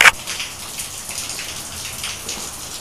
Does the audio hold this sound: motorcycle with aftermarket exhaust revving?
no